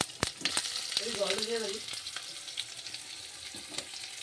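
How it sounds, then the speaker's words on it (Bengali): Whole spices and chopped onion hitting hot oil in a wok, giving a sharp burst of sizzling followed by a steady crackle and a few clinks of stirring, fairly close and with no talking. "এখন আমি ফোড়নটা দিয়ে দেবো। তারপরে পেঁয়াজ কুচি দেবো"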